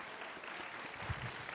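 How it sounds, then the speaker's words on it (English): Audience at a university leadership forum applauding the men's soccer team, a continuous, even wash of many hands clapping at moderate distance with no talking over it. "Give the men's soccer team a round of applause."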